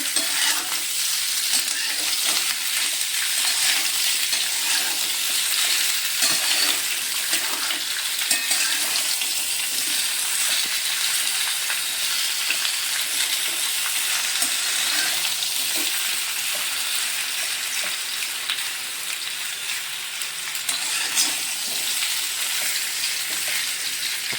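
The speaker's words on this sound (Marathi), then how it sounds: "कुरकुरीत होईपर्यंत हे आपण तेलामध्ये चांगलं भाजायचं" Potato slices fry in hot oil in a pan while being stirred, a steady, dense sizzling crackle with scraping that runs continuously and fairly loud throughout.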